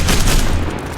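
Rapid, continuous gunfire blasts from a zombie shooter video game, loud and dense throughout a short burst, with no talking over it.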